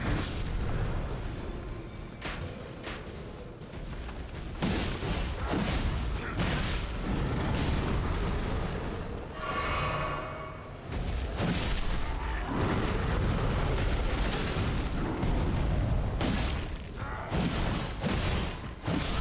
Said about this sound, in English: These bolts are non-stop.